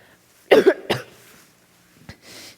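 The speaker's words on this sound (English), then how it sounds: "how long have you had that cough?" Two sharp coughs close together, followed by a short raspy breath and a faint exhale, with no talking.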